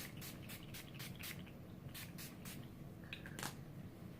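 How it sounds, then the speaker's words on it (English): A series of soft, close spritzing bursts of facial toner from a spray bottle in quick succession, then a pause and a couple more puffs. "I'm just going to use this to spray and tone my face."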